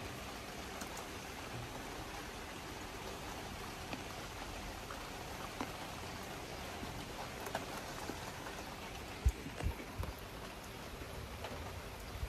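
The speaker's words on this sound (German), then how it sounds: "Es regnet." Steady rain falling outdoors on a weekend in rural Turkey, a dense, even hiss with scattered closer drops and occasional knocks, continuous throughout with no voices.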